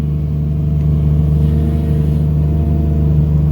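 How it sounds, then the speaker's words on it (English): A hydraulic excavator sitting at idle, a loud, steady low engine drone with a constant hum and no change in pitch throughout. "this machine is just sitting here idling"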